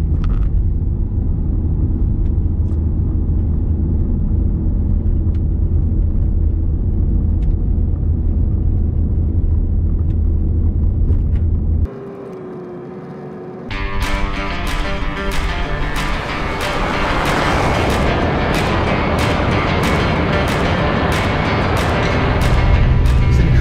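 A car driving across open desert in Eastern Oregon: a loud, steady engine rumble with road noise runs throughout, briefly dips, then returns with a rattling, gravelly texture as the vehicle keeps going.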